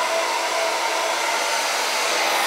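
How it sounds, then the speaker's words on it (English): A hair dryer blows steadily at full power, a loud, constant airy whine and rush with no pauses. "Let's give the hairdryer another blast."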